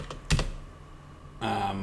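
Computer keyboard keys tapped for software shortcuts while using Revit on a PC, a few sharp close clicks and thumps separated by brief quiet gaps.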